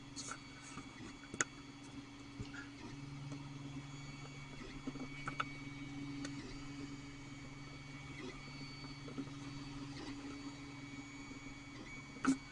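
Creality Ender 3 3D printer laying down early layers, a steady low motor hum with stepper whine and occasional small clicks and taps, fairly quiet and continuous.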